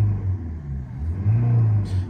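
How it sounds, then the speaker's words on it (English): A 2009 Citroen C3 Picasso with the 1.6 HDI diesel engine is revved briefly, a close low rumble that swells and eases over a couple of seconds, with no talking. "I'll rev it quickly now so you can hear the engine on it"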